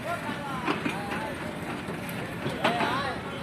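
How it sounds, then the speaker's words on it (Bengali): A local passenger train runs between Badarganj station and Rangpur, heard as a steady broadband rumble with faint rhythmic clacks, while people's voices carry over it nearby. "local train"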